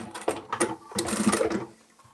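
A sewing machine backstitches a fabric cutlery roll-up pouch with a close, rapid, steady stitching chatter that stops briefly and then resumes for about two seconds.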